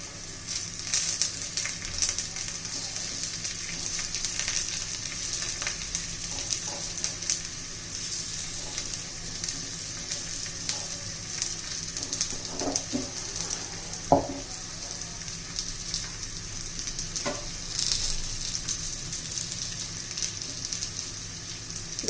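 Raw banana pieces shallow-frying in oil, a continuous close crackling sizzle with occasional louder pops and a few utensil taps as the pieces are turned, with no voices.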